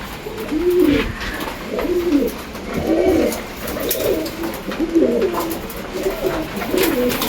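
Racing pigeons cooing close by, a repeated rhythmic rolling coo roughly every second over a soft background murmur, with no talk.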